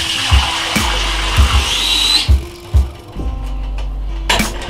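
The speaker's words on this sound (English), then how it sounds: "Let's just put that water in there." Water poured into a pot of mushrooms for vegan cream of mushroom soup, heard as a steady close splashing pour with several heavier thuds and clunks from the pot along the way.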